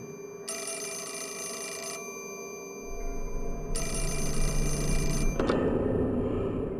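A telephone rings inside a dark house in the horror game Fatal Frame 4, two long electronic ring bursts separated by a pause, loud and close, with a low ambient drone swelling beneath and a sharp click as the ringing stops.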